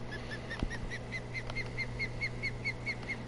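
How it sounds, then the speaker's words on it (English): A bird chirps repeatedly in a Florida Everglades bass-fishing scene in the video game Fishing Planet, bright evenly spaced calls over a low ambient hum, moderately loud against a soft background. "I'm wondering if you hear that really loud bird at 2 p.m. compared to the morning"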